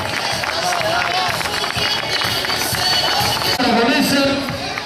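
Crowd applause and cheering for runners finishing a San Silvestre New Year's Eve race in Cadreita, steady clapping and hubbub under an announcer's amplified voice, loud and close.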